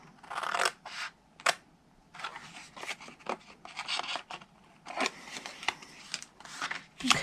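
Scissors snipping through cardstock while trimming a rectangle for an Easter Peeps box, a run of quiet, close crisp cuts in irregular bursts with short gaps between them.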